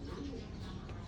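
Pigeons from Japan coo softly in a loft, a low steady murmur of several birds close by with faint background noise.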